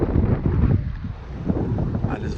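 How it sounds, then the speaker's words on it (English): Fairly strong wind at a sailboat anchorage among rocks, a continuous loud rush buffeting the microphone, with a voice talking over it. "And there's a fairly strong wind,"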